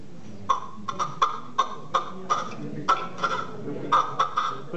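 A man imitates the call of a red-legged partridge with a rhythmic series of about a dozen sharp, clucking chuck notes, evenly spaced and close, with no other talking.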